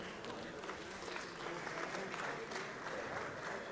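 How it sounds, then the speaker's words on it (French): Audience applause for two robot teams at a Eurobot robotics competition, a dense, even clapping that holds steady and moderately loud throughout. "On peut applaudir les deux équipes très fort."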